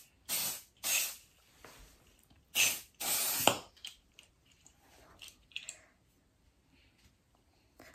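Foot spray being applied to feet from an aerosol can: several short hissing bursts of varying length, close and fairly loud, with quieter rustling and clicks in between.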